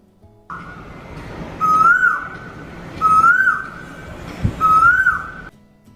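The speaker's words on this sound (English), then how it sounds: "cuckoo" A cuckoo-like bird call repeats three times at an even pace, each a clear rising whistled note over steady background hiss, fairly close and distinct.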